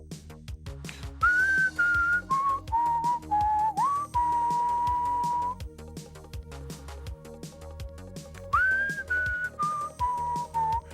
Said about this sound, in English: More whistling covers.